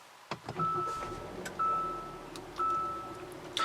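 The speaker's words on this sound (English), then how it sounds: "push this button here to fire up the engine." A 2017 Hyundai Santa Fe Sport 2.0T with a 2-liter turbocharged four-cylinder is push-button started: a click, then a starter whir and engine catching, followed by steady idle with a few sharp clicks and short beeps close by.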